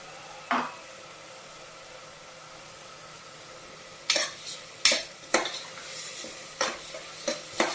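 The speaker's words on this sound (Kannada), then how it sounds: "ಮಸಾಲೆಯನ್ನು ಎಣ್ಣೆಯಲ್ಲಿ ಫ್ರೈ ಮಾಡ್ಕೋಬೇಕು." Masala frying in oil in a pan for mushroom biryani, a quiet sizzle underneath with several sharp scraping stirs of a spoon against the vessel, close by and without talk.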